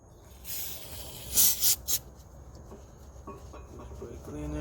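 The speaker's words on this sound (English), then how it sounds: "Maybe you should use a brake cleaner." Brake cleaner sprayed onto brake parts while changing the front brakes and drum on a 2010 Cadillac CTS: a few short, loud aerosol hissing bursts, followed by quieter workshop clatter.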